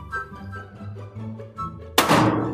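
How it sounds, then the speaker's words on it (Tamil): A white balloon bursts with one sharp, loud pop near the end, preceded by someone talking indoors. "நான் இந்த ஒயிட் பலூன் ஓடிக்கிறேன்"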